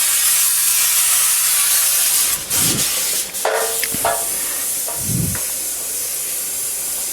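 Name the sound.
RO purifier pump water pressure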